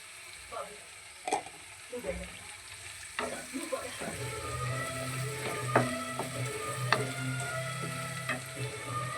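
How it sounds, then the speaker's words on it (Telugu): Green chillies sizzle and fry in a pan for gongura chutney, with steady crackling under sharper clinks and scrapes of stirring, fairly close. "పచ్చిమిరపకాయలు వేగుతున్నాయి, ఇంకొద్దిగా వేయాలి."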